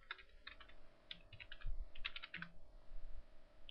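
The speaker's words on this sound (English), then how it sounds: "Type in my own name." Computer keyboard typing in short bursts of quick, close keystrokes with brief pauses between them, with no one speaking over it.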